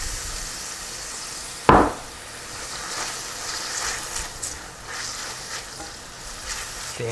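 A sharp clatter, then steady sizzling and frying of meat patties in a pan with faint stirring scrapes, continuing at moderate volume.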